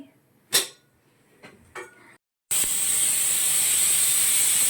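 Pressure cooker cooking sambar with fresh field beans: a few short puffs, a brief pause, then a loud continuous high whistle of escaping steam that holds steady to the end.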